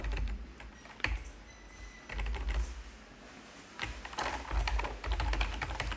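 Someone types on a computer keyboard in bursts of quick, close clicks, with short pauses between runs of keystrokes, while entering data into database tables.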